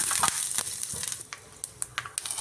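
Curry leaves dropped into hot oil for tempering a fried kuzhambu, giving a steady close sizzle with bursts of crackling and spitting pops, no voices.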